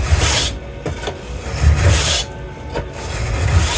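A metal file sharpening an edge: repeated loud, close rasping strokes, back and forth in a steady rhythm with short pauses between passes, and no voices.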